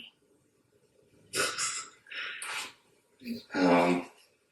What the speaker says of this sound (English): You're sniffling.